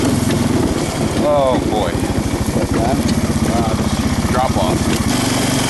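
A chainsaw engine runs steadily and loudly on ice during a South Dakota goose hunt, its buzzing drone continuous throughout while someone speaks briefly over it.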